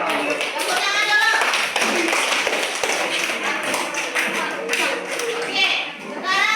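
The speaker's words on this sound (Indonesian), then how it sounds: "Tepuk tangan dulu." Children in a classroom clapping together, a dense burst of quick hand claps and taps going on for several seconds, with children's voices mixed in among the applause.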